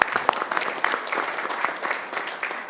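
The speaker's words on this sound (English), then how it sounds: "So let's give her a big round of applause as well." An audience at a university Board of Curators meeting claps for a medal winner, with dense, even applause that carries at a steady level through the short stretch.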